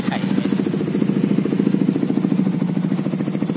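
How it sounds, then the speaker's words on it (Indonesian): A Yamaha Nmax scooter engine runs at idle, a close, loud, even putter with fast regular pulses holding steady throughout, with no talking. "Nyalain mesin."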